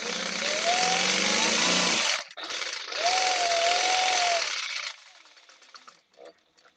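A sewing machine stitches along the edge of a fabric ID wristlet, running in two steady loud whirring bursts of about two seconds each with a short pause between, then fading into faint handling noises.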